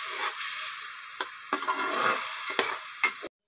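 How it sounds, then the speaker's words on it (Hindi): Spices with coriander powder and cumin fry in a pan, a close, steady sizzle broken by a few sharp scraping stirs before it cuts off abruptly. "इन तमाम चीज़ों को अच्छे से जो है ना फ्राई कर लेंगे।"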